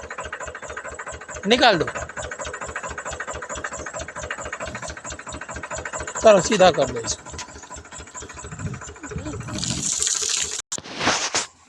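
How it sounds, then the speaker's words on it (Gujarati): A tractor engine at a greenhouse growing capsicum peppers runs steadily with a rhythmic low throb while reversing, heard close by under people talking, with a few louder bursts and clatters. "તો ટ્રેક્ટર રિવેસ મારવાનું હતું"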